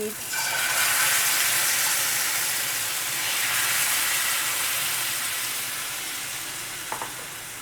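Small sabudana (tapioca pearl) vadas fry in hot oil in a steady, loud, continuous sizzle with a faint crackle, alone with no voices.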